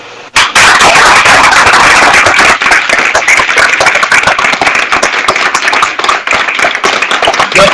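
Loud, dense applause from a large crowd at an Ivorian political rally, rising sharply after a brief pause and continuing as a sustained roar of clapping throughout.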